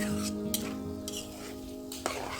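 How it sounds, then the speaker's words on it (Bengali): Small puti fish with tomato stirred and sautéed in a pan over a clay stove, giving a steady close sizzle with a few sharp scrapes and clinks of the spatula against the pan. "এখন হচ্ছে এটা একটু ভালো করে আমি কষিয়ে নিব"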